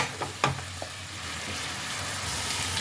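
Ingredients with a pinch of salt stirred in a hot pan, a faint steady sizzle with a couple of brief spatula knocks early on.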